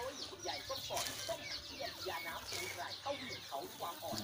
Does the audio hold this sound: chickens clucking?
yes